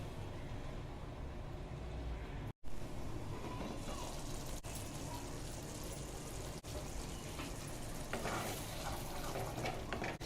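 Masala with mace and nutmeg cooking covered in a pan for Shahi Matar Paneer, a steady low sizzle and bubbling hiss running throughout at moderate level, with a brief dropout early on.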